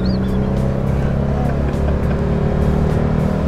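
A rusty 1965 Volkswagen Beetle with a 40-horsepower engine pulls away from a stop, its air-cooled motor droning loud and close as it accelerates, with road and wind noise under it.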